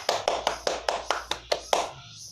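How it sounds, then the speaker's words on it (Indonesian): A class audience claps hands in about eight loud, sharp, evenly spaced claps that end with a brief fading tail. "Oke, tepuk tangan untuk kita semua."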